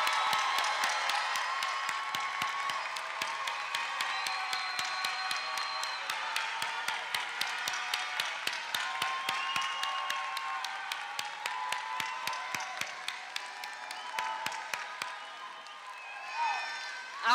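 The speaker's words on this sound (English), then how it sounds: "join me to applaud and celebrate the achievement of these graduates" Audience applause for graduates at a university graduate school commencement ceremony, a long, steady wash of many hands clapping with scattered cheers that holds evenly throughout and fades slightly near the end.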